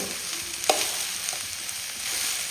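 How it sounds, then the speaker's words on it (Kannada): Green beans sizzle steadily in a hot pan, with one sharp clink of a utensil being stirred through early on. "ಬೀನ್ಸ್ ಸ್ವಲ್ಪ ಫ್ರೈ ಆಗಬೇಕು"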